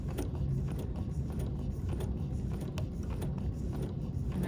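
A Bernina sewing machine runs a straight stitch with a gliding cup attachment, adding thread texture over fabric; a steady fast mechanical whir with rapid ticking needle strokes, close and continuous.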